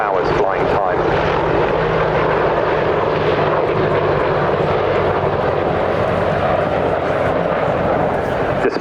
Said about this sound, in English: the Apache is highly maneuverable, as you can see with this 270-degree wing over